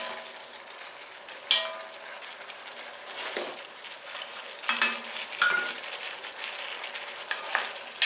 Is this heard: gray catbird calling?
no